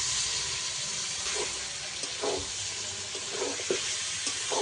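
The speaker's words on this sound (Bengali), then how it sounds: "এবার আমি মাছটাকে ভালো করে কষাবো" Marinated fish sizzling in a pan with fried onion, ginger and garlic, a soft steady frying hiss with a few brief stirring scrapes, fairly quiet and without talk.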